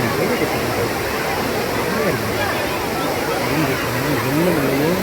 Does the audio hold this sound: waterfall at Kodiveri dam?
yes